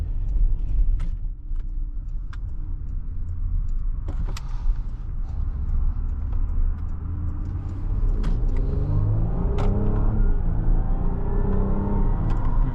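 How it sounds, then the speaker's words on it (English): A 2019 Porsche Cayenne E-Hybrid on the move, its engine rumbling low and steady throughout, with a rising electric motor whine sweeping upward in pitch near the end as the SUV accelerates; no talking. "You hear the engine, but you also hear like the whirring noise from the electric motor."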